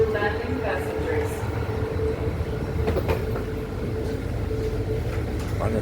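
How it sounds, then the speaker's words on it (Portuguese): An Istanbul metro train running, with a steady low rumble and rolling rail noise, a faint tonal whine and occasional clacks, close by from inside the carriage, with people talking faintly. "Olha só como é que é o metrô daqui"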